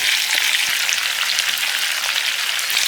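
Chopped tomatoes with salt, garlic, green chillies and ginger stirred in a pan over medium gas, a loud, close, continuous sizzle with small scraping ticks.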